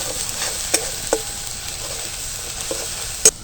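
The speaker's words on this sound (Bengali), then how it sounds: "এবার এটাকে ভালো করে কষিয়ে নেব।" Dry ground spices (turmeric, coriander and cumin powder) fried and stirred in a pan, giving a steady low sizzle with a few sharp scraping clinks of the spoon against the pan.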